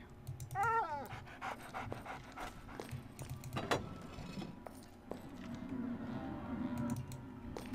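A dog in the video game Arx Fatalis pants and whimpers in short rhythmic breaths, close and moderately loud over a low ambient game hum, with a brief high whining yelp near the start.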